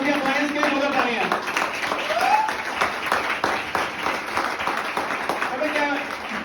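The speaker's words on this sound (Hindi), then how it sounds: "मैं चाहता हूं कि इन सभी अप्लायंस के लिए जोड़ तालियां" A crowd at a motivational MLM stage event claps in a sustained burst, a dense patter of hands running throughout while a speaker's voice carries over it.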